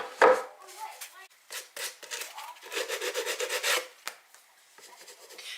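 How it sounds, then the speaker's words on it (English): A sanding block rubs sandpaper over dried clay on an upcycled wine glass rack, giving close, scratchy strokes in short bursts and a longer run of rapid back-and-forth rasping, with quiet pauses between. "I'm going to go over some of these parts here with my sand block"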